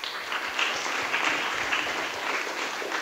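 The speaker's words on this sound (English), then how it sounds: "So a round of applause to everybody involved who have contributed to this event" An audience at a Bitcoin developer conference applauds the event's sponsors, giving a dense, even wash of clapping that holds steady throughout, fairly loud and slightly distant in a large room.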